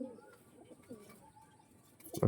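A pure white pigeon, a fancy breed with no crossing, gives soft low coos through a quiet stretch before a louder close burst of cooing and fluttering at the end.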